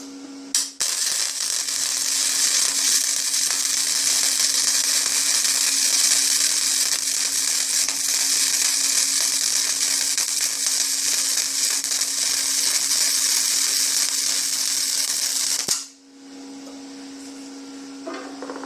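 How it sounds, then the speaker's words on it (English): A MIG welding machine lays down a quick weld, producing a loud, steady, buzzy crackling hiss that holds for about fifteen seconds before cutting off abruptly, leaving a faint hum. "we'll just give a quick fast weld"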